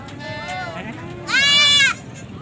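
Goats at a livestock market (bakra mandi) in Faisalabad bleat close by, first a wavering cry and then a louder, sharper bleat, with crowd noise in the background.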